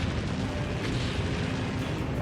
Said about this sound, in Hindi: कीव पर ऐसे कई धमाके हुए हैं